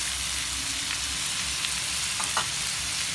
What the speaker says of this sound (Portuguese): vou deixar refogando